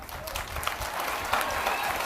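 An audience at a Telugu Christian preaching meeting applauds steadily, with what may be whistles over the clapping; a dense, continuous wash of crowd noise throughout.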